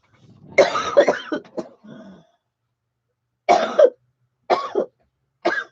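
Several separate coughs and throat-clearing bursts, close and fairly loud, in uneven clusters with silent gaps between them.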